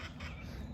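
A mama duck quacking among ducklings and chickens in a farmyard: faint, continuous noisy chatter with no clear separate calls.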